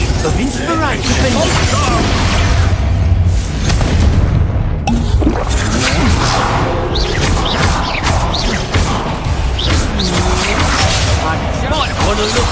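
Bombarda explosion spells in Hogwarts Legacy, with loud booming blasts and crashing bursts layered over continuous game sound and music, with a player's voice talking over the action.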